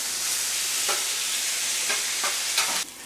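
Bone marrow burger patties hiss in a steady, loud sizzle after being flipped, with a few soft clicks and taps rising briefly over the constant frying noise.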